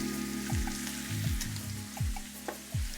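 Lamb kidneys fry in a roomy pan with a steady, close sizzle, broken by a few low knocks and scrapes as pieces are shifted; no one speaks.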